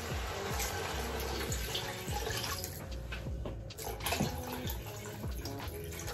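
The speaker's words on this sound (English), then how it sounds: "you then add in probably about, I'd say, 6 cups of water" About six cups of freshly boiled water pour steadily and loudly into a soup pot of lightly sautéed pumpkin soup base, giving a continuous close splashing rush with no talk.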